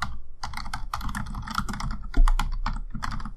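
Rapid, steady keystrokes on a computer keyboard as a customer name is typed into a QuickBooks Online account, clicking close and clear with no voices for the whole stretch.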